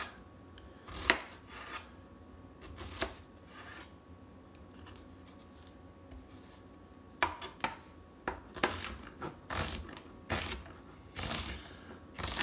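Onions chopped on a board with a chef's knife: bursts of crisp blade taps and scraping slices, quick and close, broken by short pauses in a quiet kitchen.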